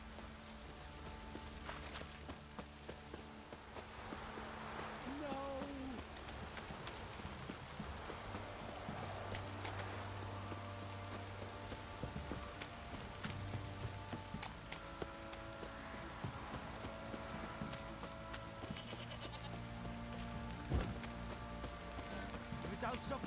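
Steady rain falls across a muddy no man's land in Velen in The Witcher 3, making a constant soft hiss with low ambient rumble beneath, while a voice speaks briefly partway through.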